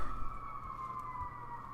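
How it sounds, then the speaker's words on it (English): A steady siren wail outdoors in Minecraft, holding two sustained tones throughout at moderate loudness over a low rumbling background, with no talking. "Sirens outdoors."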